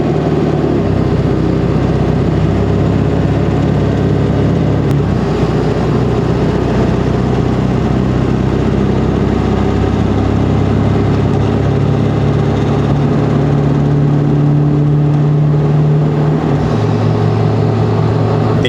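A vehicle engine running on a towing tune from a Hydra chip tuner, held in the lower gears, drones loud and steady throughout with a low rumble. The pitch climbs and shifts slightly near the end.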